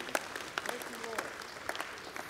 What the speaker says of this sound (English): If you want to applaud